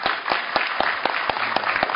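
An audience at a Brockton debate applauding, a steady wash of many hands with a few sharper nearby claps, moderately loud and without talk over it.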